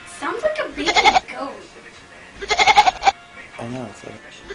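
Baby goat bleating in two loud, wavering bursts, with a person speaking briefly afterward.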